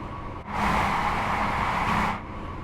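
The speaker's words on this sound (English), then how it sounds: "Sound like there was another train." Another train passing in Train Sim World 5 on a Scottish countryside line, a loud steady rushing roar that swells in, holds for about a second and a half, then cuts away.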